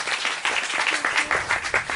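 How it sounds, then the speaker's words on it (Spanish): A church congregation claps together during a sermon, with steady, dense applause filling the room at a near distance, and faint voices mixed underneath. "Y dale un fuerte aplauso al Señor por esto, hermano querido."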